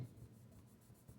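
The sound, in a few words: black colored pencil lightly shading on paper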